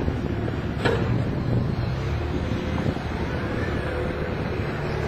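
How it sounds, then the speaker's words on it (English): A low engine hums steadily at about 1600 rpm in the background under gusty wind noise, with no talking, from a TF830B matting machine. "You can hear the engine running"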